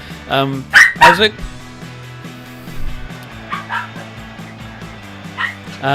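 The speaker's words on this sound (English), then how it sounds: "those squeaks are my dog" A pet dog makes high squeaks and yips, nearest in a loud burst early on and then in softer scattered bursts, over constant game music and crowd-like background sound.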